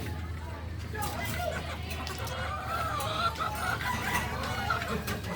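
Texas breed chickens cluck steadily at close range, with a crowing rooster and a low babble of distant voices in the background.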